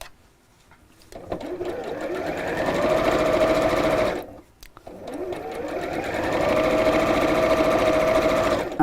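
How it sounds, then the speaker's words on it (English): Sewing machine stitching an apron just inside an earlier stitch line, running steadily in two long runs that each speed up, separated by a brief stop. "I'm stitching just inside that stitch line that I made previously"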